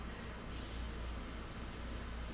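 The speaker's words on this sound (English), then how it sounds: "I'm painting with the airbrush" Airbrush spraying India ink onto a portrait, a steady close hiss of air that starts brightly after a brief softer moment and continues evenly throughout.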